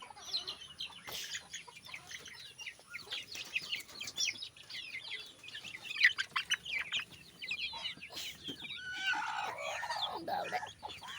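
Backyard chickens, including a rooster, hens and a brooding hen, cluck and chatter in scattered, overlapping bursts at moderate distance, with occasional wing flaps and a livelier flurry of calls toward the end.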